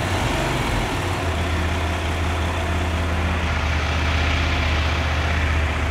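Big bike motorcycle engine idling steadily right after its first start, a close, continuous low rumble with an even pulsing throb and no speech.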